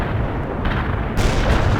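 Artillery barrage in the real-time strategy game World in Conflict, a loud, sustained roar of booming fire with a heavier surge toward the end, no voices.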